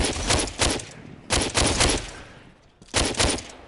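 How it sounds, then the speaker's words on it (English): Gunfire in the VR shooter DWVR, aimed at a distant enemy: three sharp bursts of rapid shots, each trailing off with a reverberant tail, loud and with no talking. "Let's shoot this guy from afar."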